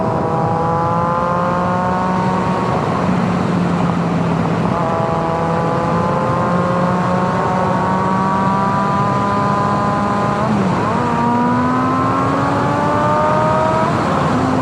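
Triumph Daytona 675R sport motorcycle fitted with a Werkes exhaust, heard loud and close as the engine climbs steadily through tall gears, with rising pitch sweeps broken by brief dips at each upshift.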